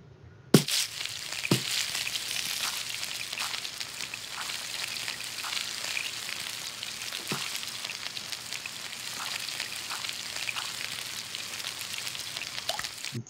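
Cartoonish mushroom and carrot frying in the kids' cooking game Toca Kitchen 2, a steady soft sizzle running throughout with a few brief clicks and taps, fairly quiet and with no talking.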